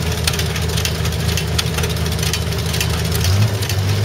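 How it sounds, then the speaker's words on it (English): An International antique tractor engine at a machinery show chugs and revs nearby, a loud, steady low throb with a rising burst near the end. "You can hear the International revving up"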